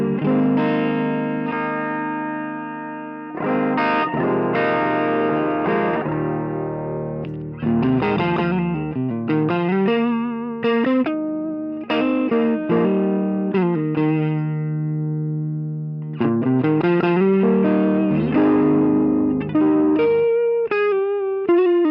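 An electric guitar through a VERTEX Tone Secret Tube Screamer-style pedal plays mildly overdriven chords and single-note lines, close and full, with sustained notes and brief pauses between phrases.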